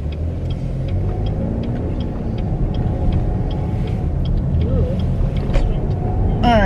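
A car drives along a road with steady engine rumble and road noise throughout, alongside other traffic, with faint people talking inside the vehicle.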